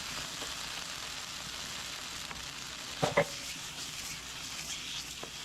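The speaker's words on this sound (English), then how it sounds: "you want to get a good sear on the beans, on the meat" Beans and meat sear in a hot pan for a Tex-Mex filling, giving a steady, close sizzle with a pair of brief scraping stirs near the middle.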